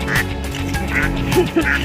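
Several laying ducks in a rice paddy quacking loudly and close by, overlapping calls in a busy, noisy flock.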